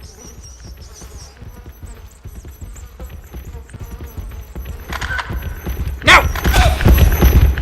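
A pig charges through in the horror game DreadOut, its rough rumbling rush building to a close, loud crash of heavy thuds in the final seconds, with a brief shout over it.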